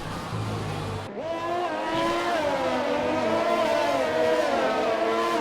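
Formula 1 cars in an Xbox racing game at a Russia round whine at high revs, with a rising engine tone shifting and sweeping as they race, loud and continuous, over a steady background roar.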